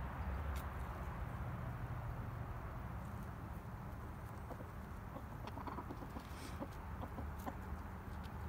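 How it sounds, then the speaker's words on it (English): Soft hen clucks scattered over a steady low background hum, with occasional brief sharper calls; no one speaks. "a sweet little hen."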